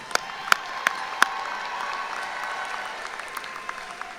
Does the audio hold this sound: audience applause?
yes